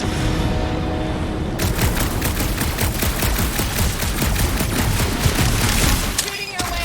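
Dense gunfire from a sci-fi action game, a loud continuous fusillade of rapid shots with booming impacts, steady for several seconds and fading near the end, with faint voices beneath.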